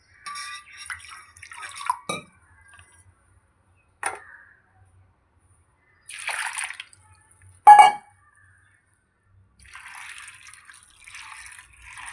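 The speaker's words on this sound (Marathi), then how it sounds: "आता मी इथे परत एकदा पाणी घालते" Water trickles and splashes over fenugreek seeds in a container, short faint pouring bursts and drips separated by quiet pauses, with no talking.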